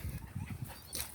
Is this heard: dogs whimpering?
yes